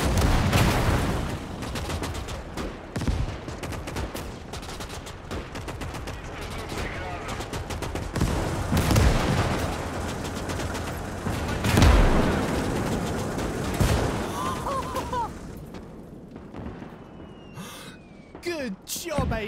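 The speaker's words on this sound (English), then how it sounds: "I suddenly heard explosions from the left side" Explosions and gunfire in the Eastern Front game OstFront, with bursts of rifle and machine-gun fire and several heavy booms throughout, near and far, under excited talk.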